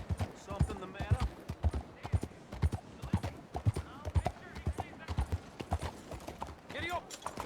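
Horse hooves clip-clop in a steady galloping rhythm while riding in the Red Dead Redemption 2 video game, close and prominent, with bursts of in-game character dialogue over the hoofbeats.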